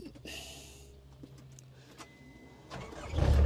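A 2007 GEHL CTL60 compact track loader on a cold 27-degree morning, its engine cranking and catching near the end with a loud, rising low rumble after a quieter stretch of faint background hum.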